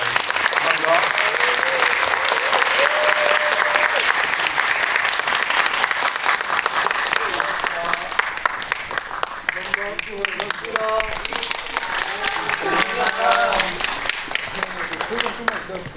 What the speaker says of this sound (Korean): 오늘 게스트분들께 큰 박수 드리면서 마무리하겠습니다